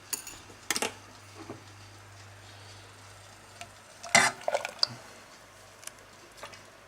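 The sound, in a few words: stirring egg and milk mixture in a saucepan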